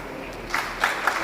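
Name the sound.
round of applause at memorial presentation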